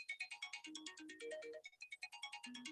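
A mobile phone ringtone plays on its own, a bright repeating electronic melody with steady pulsing notes that keeps ringing through the whole stretch, loud and close.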